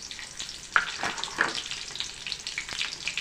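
Onions frying in oil over low heat for mugdal-and-chicken-skin cooking: a steady close sizzle with a few sharper crackles and light stirring taps, no voices.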